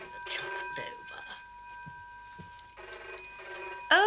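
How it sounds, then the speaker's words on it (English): An old-fashioned telephone bell rings in a house in two long trilling bursts separated by a quieter gap, fairly clear and close, with faint movement noises between rings. "The telephone is never for anybody but Ernestine"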